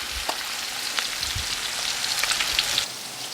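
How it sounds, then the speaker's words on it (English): Mushrooms sizzle in a hot pan as heavy whipping cream is added, giving a soft, steady frying hiss broken by scattered small crackles and pops. "This is heavy whipping cream. We're going to add it to the mushrooms."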